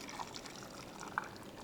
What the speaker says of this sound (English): So now we'll just fill it the rest of the way with fresh hot water